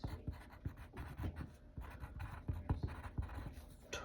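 Pen or pencil scratching across a worksheet in a sixth-grade classroom, quick irregular strokes with short pauses, close and fairly soft, no talking.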